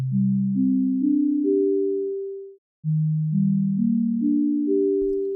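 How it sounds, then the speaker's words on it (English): Pure sine tones from a graphing-calculator synth prototype, stepping upward in pitch through two rising sequences of sustained notes, clean and loud with a brief gap between runs. "Right now, it's just playing a sine wave."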